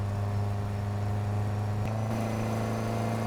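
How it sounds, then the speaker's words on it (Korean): Steady engine drone from a car in an arcade-style racing video game, holding a constant hum with a slight pitch shift partway through, no talk over it. "야 엔진 소리 좋은데?"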